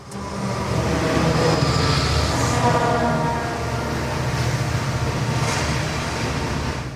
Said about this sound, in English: If passing motorists can't see the train beneath them, they can surely hear it.